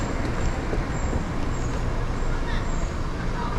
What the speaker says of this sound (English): There's the bus.